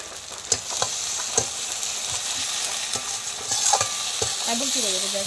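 Egg curry masala being stirred in a pan with salt just added, a soft sizzle with scattered spatula knocks and scrapes against the pan, close and fairly quiet, no voices.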